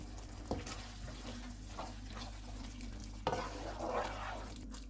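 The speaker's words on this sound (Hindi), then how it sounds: "सब्ज़ धनिया और अदरक के स्लाइसेस, इनको मिक्स करेंगे।" Soft, quiet stirring and scraping in a pan as green chilies, coriander and ginger slices are mixed into sizzling chana daal keema, with a faint low hum underneath and a couple of sharper utensil knocks.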